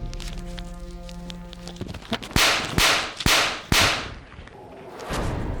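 Blows land in a Hindi drama scene, several sharp whip-like smacks about half a second apart after a quieter stretch with a low hum, then a lingering swishing noise.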